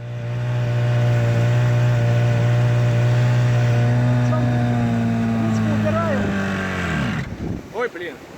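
A modified Vikhr 18 hp outboard motor drones steadily on a boat, its loud, even engine tone holding for several seconds before dropping and cutting out, followed by splashing water.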